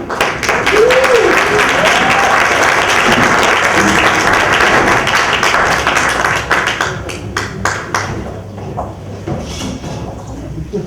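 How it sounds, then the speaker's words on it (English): An audience at a Hollywood film Q&A bursts into loud, sustained applause for the filmmaker, with dense clapping that thins out and fades toward the end. "Round of applause to the filmmaker."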